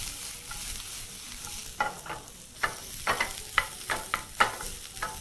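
Spices and onion fry in oil, stirred with a wooden spoon. A low sizzle sits under a series of sharp scraping strokes that grow more frequent in the second half, close by and without speech.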